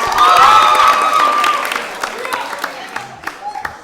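An audience at a youth show claps and cheers as a contestant is welcomed, with a loud whoop and shouting at first, then scattered claps fading out under light chatter.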